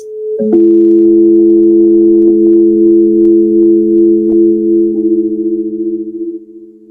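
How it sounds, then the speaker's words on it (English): Electronic sine-wave tones at different pitches play together as a loud, steady hum for about six seconds, with a slow wavering beat that grows as the tones fade out. No one speaks. "I'm going to try to turn the tones on"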